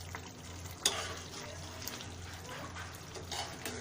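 Chicken masala with slit green chillies being stirred in a pan, a steady soft sizzle of frying running throughout with a few scraping stirs of a spoon, close and fairly quiet, with no talking.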